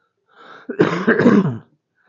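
A single rough cough or throat-clearing, close and fairly loud, heard on its own with silence around it.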